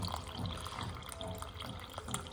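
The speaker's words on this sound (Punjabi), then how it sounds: "ਆਪਾਂ ਹੁਣ ਇਹ ਗਲਾਸ ਨੂੰ ਭਰ ਰਹੇ ਹਾਂ ਪਾਣੀ ਪਾ ਕੇ" Water runs steadily into a drinking glass at home, a soft continuous trickling pour heard faintly and close with no talking.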